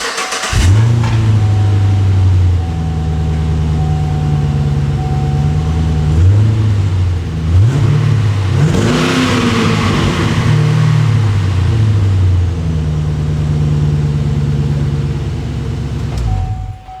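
Chevrolet Caprice with a 6.0 V8 running a Dynomax Ultra Flow muffler, a steady deep exhaust burble with several rising and falling revs in the middle, loud and close throughout.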